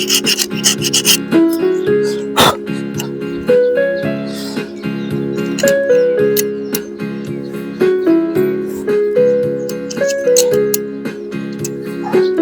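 Ends of a motor starter part rubbed clean by hand, a loud, repeated scraping and rasping close up, with tonal ringing and hum running underneath.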